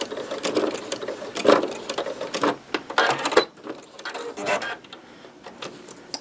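A sewing machine stitches a repair seam on a towel and back-stitches, rattling in short, close bursts with brief pauses between runs.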